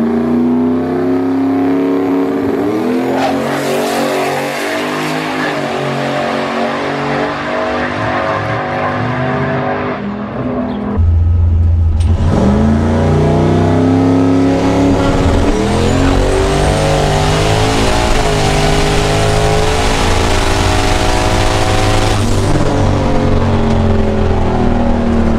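A race car engine roars loudly and steadily, pitch climbing through gear changes with a brief dip before surging again, close and continuous.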